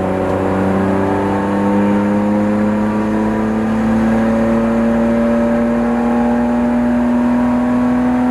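A Nissan Skyline R34 GTR accelerates gently on the road, its engine droning steadily and climbing slowly in pitch, loud and close throughout with no voices.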